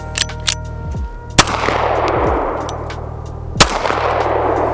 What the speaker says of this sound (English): we'll see if we can land some shots